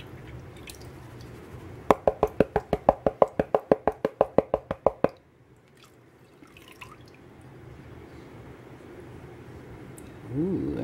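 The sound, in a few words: water sloshing in a gold prospecting pan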